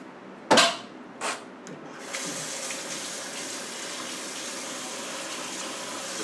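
Water or oil drained from tuna cans into a kitchen sink, opening with a couple of sharp clinks, then a steady running pour that continues evenly to the end.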